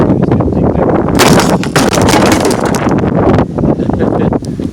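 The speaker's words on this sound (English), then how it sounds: "I told you it was windy out here." Loud, blustery wind batters the microphone in heavy gusts, roaring and crackling with brief lulls between blasts.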